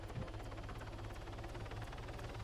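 Helicopter in the military game Arma 3, a steady low rotor thump and engine drone held at constant loudness throughout, with faint periodic blade swishes above.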